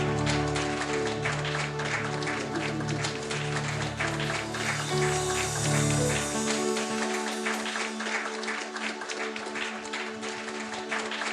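A church congregation standing to applaud and cheer for Jesus, with sustained clapping and crowd noise that goes on under a steady musical drone and fades toward the end.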